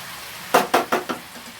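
Chicken is stirred in a frying pan, four quick scraping strokes against the metal over a light sizzle, close and fairly loud.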